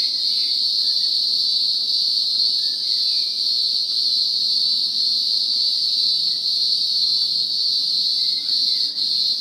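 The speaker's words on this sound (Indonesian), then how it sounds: "Cicada adalah serangga yang memiliki suara paling keras" A greengrocer cicada sings in a loud, continuous shrill buzz that holds steady and unbroken throughout, close and alone.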